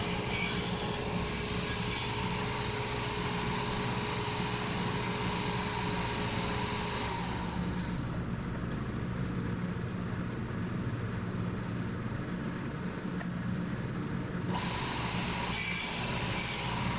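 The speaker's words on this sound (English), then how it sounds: "I started using this little file, but in the end what worked best was a popsicle stick with sandpaper around it" Steady, close rasping and rubbing of sandpaper wrapped on a popsicle stick and a small file against a walnut cornhole board, continuous and loud throughout with a brief quieter stretch midway.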